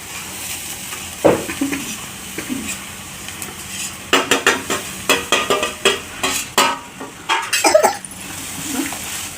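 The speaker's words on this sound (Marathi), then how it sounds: "छान असं परतून घ्यायचं." Crumbled leftover roti with turmeric stir-fried in a pan: a soft sizzle under a quick series of loud spoon scrapes against the metal pan, close and rhythmic.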